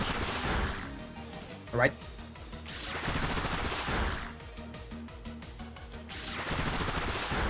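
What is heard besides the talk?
Bullet Seed attack in Pokémon Scarlet and Violet video game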